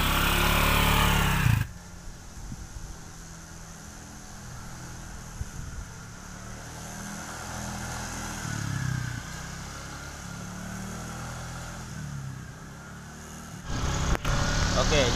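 A 2008 Suzuki Skywave automatic scooter hums along on a test ride, its engine a low, steady drone with gentle swells in pitch, heard close beneath wind noise while someone talks.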